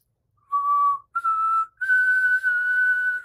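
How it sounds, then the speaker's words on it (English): Whistling done while breathing in: three clear, steady pure-tone notes, each held about half a second to a second and a half, rising slightly in pitch, close and fairly loud with a breathy edge. "Now we can whistle in like this."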